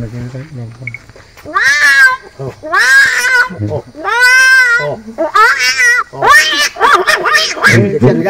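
A person mimics big old tomcats fighting, drawing out several wavering, yowling meows one after another, rising and falling like a quarrel, with brief pauses between.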